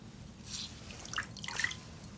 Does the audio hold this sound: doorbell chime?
no